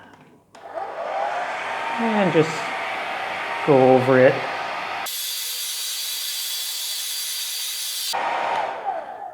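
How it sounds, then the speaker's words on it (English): A hair dryer drying a painting blows steadily with a loud, broad whoosh, running for several seconds alongside a person talking. "I take out my hair dryer"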